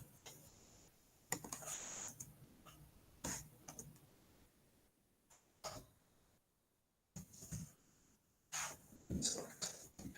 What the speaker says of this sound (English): I'm going to be lazy and I have to type this out.